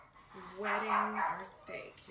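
A dog barks a few times close by in a home kitchen, short sharp yaps under a person talking while steak is seasoned.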